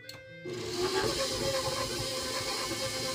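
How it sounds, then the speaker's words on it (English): A stand mixer starts up on low speed to beat butter, a brief quiet moment followed by a steady motor whir and hiss that holds evenly to the end. "We're going to turn the machine on low and make the butter a little easier to combine with the other ingredients."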